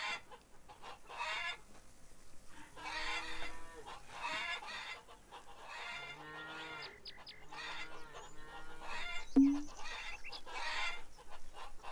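A rooster in the Farmers Dynasty farming game gives several clucking, crowing calls in short bursts over a faint farmyard background, with one sharper squawk near the end.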